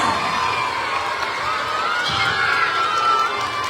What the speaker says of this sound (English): Let's give another round of applause to Miranda and Cora.